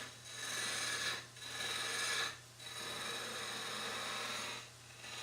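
A wood-turning gouge rides its bevel across spinning wood on a lathe, giving a steady raspy shaving hiss in three long passes with short breaks between them, close and fairly loud over a low hum.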